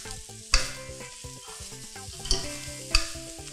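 Cooked rice and kale are tossed in a hot pan for Thai railway-style fried rice, with a continuous sizzle broken by three sharp metal scrapes and clanks of the spatula, close and loud.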